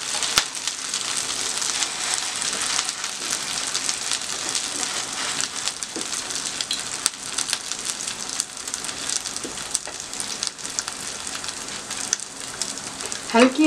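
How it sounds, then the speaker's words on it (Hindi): Chicken chapli kebabs fry in a pan over medium heat, giving a steady, loud, close sizzle and crackle with scattered pops throughout, no talking. "अब आप इसको फ्राई कर लें, दरमियानी आंच पे फ्राई करें ताकि ये जले ना और अच्छे तरीके से फ्राई हो जाए।"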